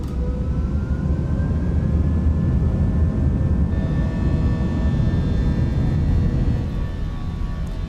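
Twin engines of an Airbus A319 in Microsoft Flight Simulator 2024 spool up for takeoff at Portland, a steady loud roar with a rising whine that climbs and holds throughout, no talk heard.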